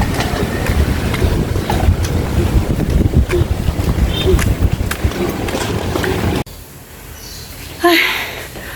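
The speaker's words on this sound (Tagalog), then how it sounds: "Ang lakas ng hangin." Strong, steady wind buffeting a microphone outdoors under an overcast, drizzly sky in Cavite, a continuous loud roar that cuts out abruptly near the end before a fainter gust returns.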